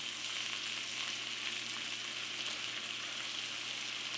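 Cabbage and bacon frying in a pan, a constant bright crackling sizzle that holds steady and close throughout, with no talking over it.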